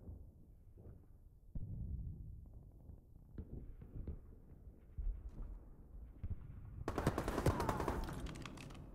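Gunfire in a video game sounds as scattered short bursts and single shots at moderate distance, ending in a louder, denser volley.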